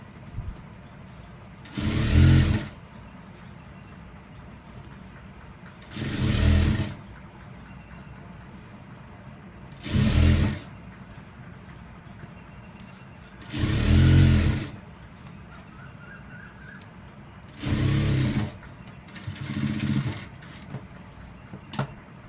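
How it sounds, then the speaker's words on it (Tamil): A domestic sewing machine stitches the center seam of elastic uniform pants in six separate short runs of about a second each, with quiet gaps between them and no talking. "அதுக்கப்புறம் இந்த தையலை போடுவோம், சென்டர் தையல் போடுவோம்"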